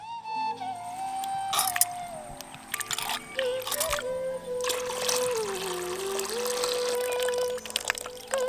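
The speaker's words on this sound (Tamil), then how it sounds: "ஊற வச்ச உளுத்தம் பருப்பை இப்ப தண்ணி ஊத்தி அலசிட்டு" Water poured over soaked urad dal to rinse it while making traditional ulundhu halwa, a steady close trickle and splash of liquid running into a vessel with sloshing throughout.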